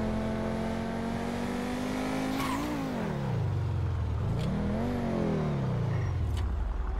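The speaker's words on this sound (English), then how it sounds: "Oh, I really love the exhaust." A supercar's exhaust revs in GTA 5, a loud steady engine drone that swoops up and down in pitch twice as the throttle is blipped, close and continuous with no talk.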